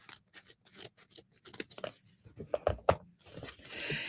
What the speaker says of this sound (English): I'm going to dovetail this really fast with my scissors. And I'm just cutting like a triangle starting at the open part.